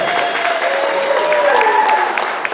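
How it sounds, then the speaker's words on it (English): Audience clapping for Dana White at an evening steampunk exhibit event, a steady wash of applause with a few voices mixed in, fairly close and loud throughout. "Give Dana a round of applause."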